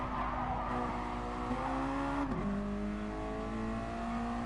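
Mazda MX-5 race cars brake hard into turn 1 at Sardegna during a championship race, with a steady engine drone and shifting tonal whine that drops in pitch, alongside faint tire noise.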